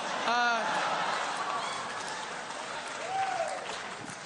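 Stand-up comedy audience clapping in a club, a modest scattered round of applause that begins loud and thins out over a few seconds, with a brief whistle or voice rising near the start.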